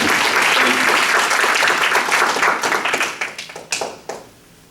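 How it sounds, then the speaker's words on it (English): Audience applause for an announcer at a leadership talk: a dense, loud round of clapping that thins into scattered individual claps and fades out. "Please give my world-class announcer a round of applause"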